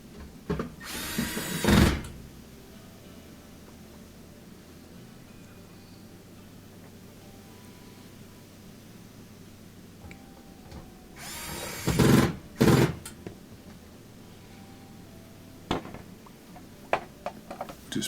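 A power drill drives screws into the front panel of a Whirlpool washer, with two loud whirring bursts a few seconds each, separated by long quiet stretches of faint handling clicks and taps.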